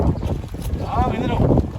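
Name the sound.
wind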